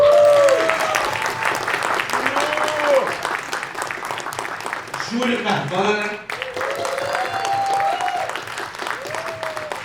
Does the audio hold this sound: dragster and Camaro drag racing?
no